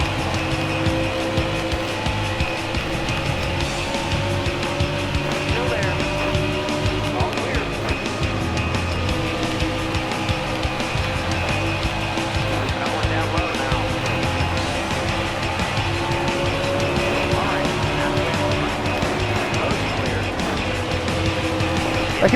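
Several race car engines in a racing video game, a continuous loud droning roar with layered engine tones that rise and fall steadily, with no gaps and nothing else standing out above it.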